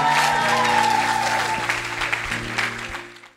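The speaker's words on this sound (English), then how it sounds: "Clap for them." Clapping from a church congregation at the close of a service, loud and continuous, rising over sustained organ or keyboard chords and fading away near the end.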